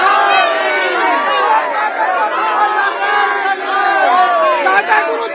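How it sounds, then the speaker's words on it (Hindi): A large crowd of devotees at Bageshwar Dham, gathered for a birthday celebration, chants slogans in unison, loud and close, with many overlapping voices rising and falling together. "एक सुर में बाबा बागेश्वर की जय के नारे लगाते हुए भी नजर आ रहे हैं।"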